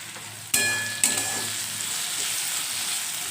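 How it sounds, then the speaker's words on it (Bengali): Potatoes dropped into hot oil with salt and turmeric, two sharp bursts of sizzling as pieces hit the pan, then a steady close frying hiss that carries on alone. "আলুটা দিয়ে নুন হলুদ দিয়ে দিয়েছি, একটু ভাজা হোক"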